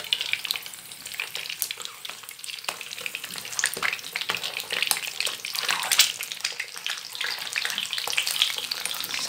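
Eggs fry in hot oil for an egg curry, spitting and spattering loudly throughout, with dense crackling pops over a continuous close sizzle and no talking.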